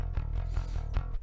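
A clean, unprocessed electric bass plays a short riff, with round low notes plucked in a steady rhythm and no distortion.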